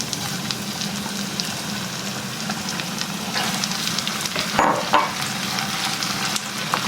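Sardines frying in a pan for a simple Filipino lunch, a steady soft sizzle with faint crackle and a few stirring scrapes, moderately quiet and continuous without talk.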